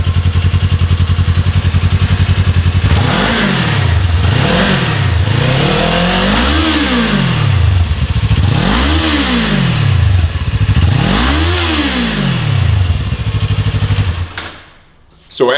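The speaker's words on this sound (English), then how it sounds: "let's start with our stock exhaust note. The 400's warmed up and ready to go." Kawasaki Ninja 400 motorcycle on its stock exhaust, warmed up: a steady idle, then four or five sharp revs that climb and fall back, loud and close, before cutting off near the end.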